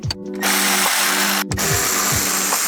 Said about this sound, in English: I'm getting a ratchet.